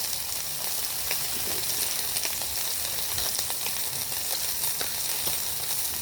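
Food for a protein meal sizzles and spits in a hot pan, a steady dense hiss that stays loud and close throughout with faint crackles and no voices.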